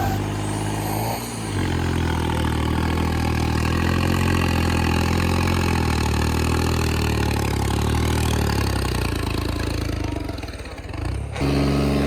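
An old Ford 3630 tractor engine runs loud and close with a steady low chugging idle, briefly shifting pitch near the start and end.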